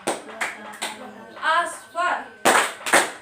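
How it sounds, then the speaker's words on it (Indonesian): Schoolchildren in a classroom game clap together in sharp, crisp bursts, a few distinct claps spaced out between a teacher's spoken prompts, near and fairly loud. "Kalau ibu bilang Ahmad, tepuk sekali."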